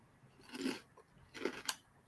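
Cereal mixing Trix and Lucky Charms being crunched while eating, with two close crisp crunchy bites about a second apart against a soft background hiss.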